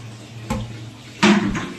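Water pouring into a drum, a short rushing gush with a couple of splashing surges, close and fairly loud.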